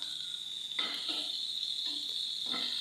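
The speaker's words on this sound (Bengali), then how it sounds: "আমি 2 মিনিটের মতো পেঁয়াজটাকে হালকা করে ভেজে নিচ্ছি" Chopped onions frying in a pan, with a steady bright sizzle running throughout and a few scraping stirs of a spatula breaking in at intervals, close and moderately loud.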